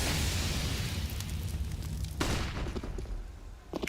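Gunfire rattles through a competitive Counter-Strike match: sustained dense shooting and explosive bursts at first, then a sharp crack and scattered shots that thin out toward the end.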